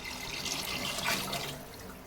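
Water is poured into a pot for coconut rice, a faint, soft, continuous splashing pour lasting about two seconds, swelling slightly midway, with no talking.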